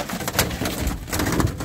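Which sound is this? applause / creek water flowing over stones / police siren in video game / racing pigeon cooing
racing pigeon cooing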